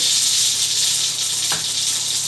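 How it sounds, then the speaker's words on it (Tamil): Mustard seeds splutter in hot oil with a steady, dense, crackling hiss, close up; a brief faint squeak cuts in near the end. "இப்போ கடுகு பொரிஞ்சிச்சு"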